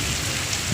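Rain falling steadily as an even, close hiss of drops throughout a brief moment, with no voices.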